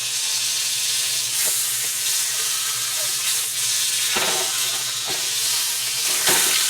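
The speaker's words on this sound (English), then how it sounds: "There's a nice sear on that." A beef roast sears in a hot pan, producing a close, steady hiss and sizzle with a few sharp knocks as the meat is shifted and turned.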